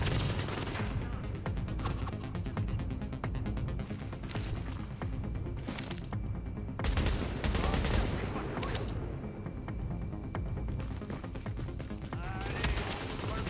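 Dense, rapid gunfire with incendiary and explosive rounds fills a firefight in the video game The Division, with sustained bursts and loud repeated shots throughout.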